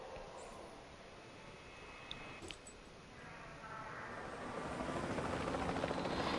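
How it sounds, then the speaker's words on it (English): Video game helicopter with a steady broadband rotor and engine roar that builds louder toward the end, no talking over it. "if we can get this helicopter to drop us off as well"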